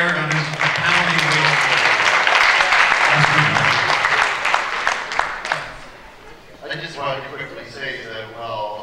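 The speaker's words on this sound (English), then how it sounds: "A big round of applause for Janai Aragon, who's a panel leader." Audience applause fills a meeting hall, a dense, steady wash of many clapping hands that fades after about six seconds, followed by a voice speaking.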